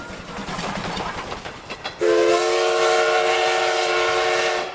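A train rolls with clattering noise, then a sustained tonal whistle or horn-like hum sounds loudly as it slows for a temporary stop, holding steady before fading.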